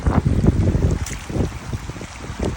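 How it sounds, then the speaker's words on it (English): Wind gusts through an open park, a steady low rushing roar with buffeting on the microphone, rising and falling over a few seconds with no voices. "The wind is blowing."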